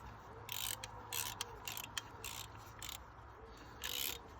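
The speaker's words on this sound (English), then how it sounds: "put your ratchet on to do up" Ratchet tightening spark plugs on a 2001 Toyota Yaris R-sport VVTI, with rapid clicking bursts in several short runs separated by pauses, close and fairly quiet.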